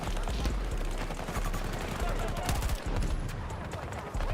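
Rapid bursts of automatic gunfire from the video game Battlefield crackle loudly, with shots overlapping into a dense fusillade throughout.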